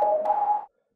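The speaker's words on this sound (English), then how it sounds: "You can turn on and off the retro knob, which will make it sound different. So without, it sounds like this" A single sustained synthetic whistle tone from the Whistler synth plugin, played with its retro setting switched off, holds steady for under a second and then stops cleanly, with no voices.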